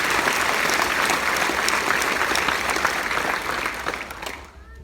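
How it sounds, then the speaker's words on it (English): A large audience gives a full round of applause at a public gathering, loud and steady clapping that tapers off in the final second. "Give him another round of applause."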